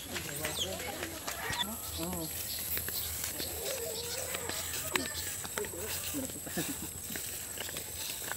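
Ducks in their pen at a farm, with scattered nearby quacks and clucking plus footsteps, while a person talks over the birds.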